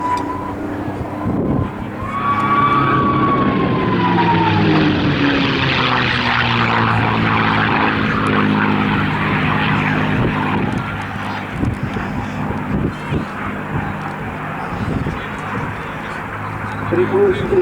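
A P-51 Mustang with a Merlin engine flies past at the RAF Cosford Airshow, its propeller drone swelling loud then sliding down in pitch as it passes, with voices murmuring in the background.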